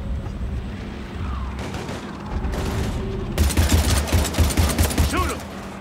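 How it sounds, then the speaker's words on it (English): Heavy gunfire in the Mass Effect 3 video game during a fight with husks: sparse distant shots at first, then rapid, loud overlapping bursts of automatic fire, with booming impacts. "We're taking heavy fire."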